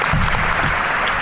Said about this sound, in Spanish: Un aplauso para Juan Antonio, por favor.